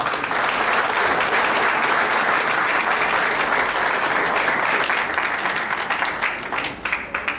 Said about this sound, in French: je pense que ça mérite une tonne d'applaudissements, n'est-ce pas?